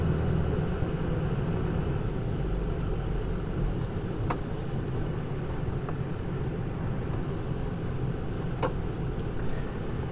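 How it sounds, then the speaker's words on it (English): A 2005 Ford Excursion Limited 4WD with a 6.0L Powerstroke diesel running steadily, a low continuous engine rumble with faint occasional clicks, close and even, with no talking. "That motor sounds so healthy and so nice,"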